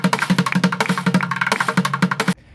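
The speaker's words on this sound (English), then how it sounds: "Yes, that unmistakable clunking sound." A worn 4.0 engine in a 2001 Jeep Cherokee XJ idles with rod knock, a loud, rapid, regular clunking over the running engine before it cuts off abruptly.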